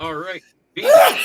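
A short, sharp sneeze bursts out right after a person speaks, close and loud.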